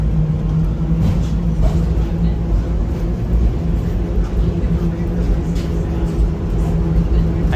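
Steady low rumbling engine and road drone from a hop-on hop-off tour bus crossing a bridge in Ottawa, continuous and fairly loud, with faint voices mixed in beneath.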